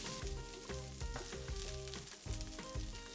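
Garlic and broccoli florets sizzling as they are stir-fried in a wok, a steady bright crackle with repeated stirring and tossing knocks from the pan throughout, close and fairly quiet.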